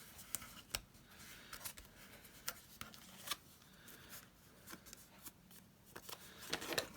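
Paper being folded and glued for a handmade ephemera gift book: soft crinkles, taps and quick brushing clicks, close and faint, scattered irregularly with no speech.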